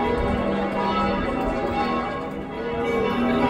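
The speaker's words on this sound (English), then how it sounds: "Bells are ringing." Church bells ring steadily in the busy main square of Frankfurt's Old Town, their tones sustained and blending with crowd murmur.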